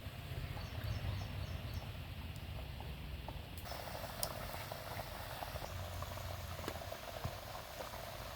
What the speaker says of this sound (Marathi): तेल आपलं चांगलं गरम झालंय आता कापण्या सोडून